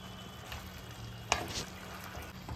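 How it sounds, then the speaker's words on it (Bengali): Ginger and garlic paste sizzles softly in a pan on low flame for chicken kasha, with a quiet continuous frying hiss and one brief scrape of stirring. "এটাকে একটু মিশিয়ে ভাজতে হবে, তাহলে কাঁচা গন্ধটা চলে যাবে।"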